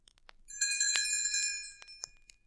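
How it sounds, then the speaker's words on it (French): Tinker Bell's tiny fairy bells tinkle as a page-turn cue in a French Mowgli storybook recording: a brief, bright, shimmering chime that swells for about a second and then fades into a few faint clinks. "Elle fera tinter ses petites cloches comme ceci."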